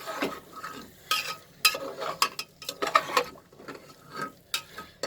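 Green chilies being stirred into frying vegetables and masala for vegetable tahari, with irregular bursts of spatula scraping and clatter over a soft sizzle, up close and with no speech.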